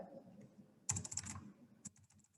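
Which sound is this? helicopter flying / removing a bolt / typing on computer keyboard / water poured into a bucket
typing on computer keyboard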